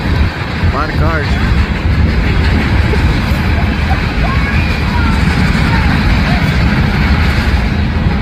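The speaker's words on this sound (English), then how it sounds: "There's a big train. A lot of cars." A big freight train with many cars rolls steadily past near the Erie Canal lock at Little Falls, a continuous close rumble and wheel clatter, with a few voices talking over it.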